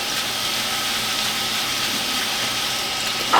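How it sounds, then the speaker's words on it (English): Water runs steadily over rice being rinsed, a soft continuous hiss and trickle at low level, ending with a brief louder splash. "Make sure you rinse your rice."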